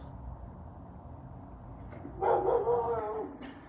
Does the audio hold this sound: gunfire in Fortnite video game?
no